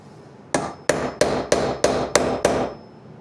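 Seven sharp, evenly spaced hammer blows drive nails into a wooden Gothic arch birdhouse, each strike crisp and close with a brief ringing decay, followed by quiet.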